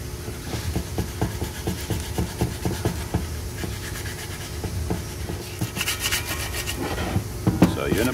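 Rhythmic scraping strokes of sanding a metal part rub back and forth at a steady pace, ending with a few sharper clinks.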